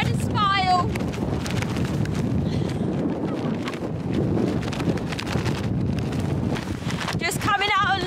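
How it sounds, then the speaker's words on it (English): Gusty wind rumbles hard against the microphone throughout a remote island hike, a dense, close roar with short vocal fragments heard at the start and end. "It is bloody windy."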